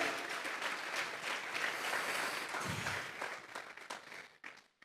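A church congregation at a sermon breaks into sustained applause, a fairly faint, even wash of many hands that thins and tapers into scattered claps at the end.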